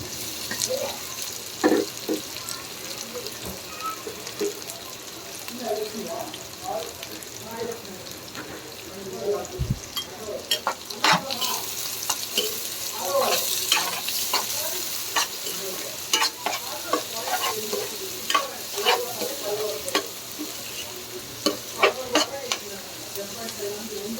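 Onions fry in a pan until golden for a chicken curry, a continuous close sizzle broken by scraping stirs and clinks of a utensil, with a voice talking intermittently over it.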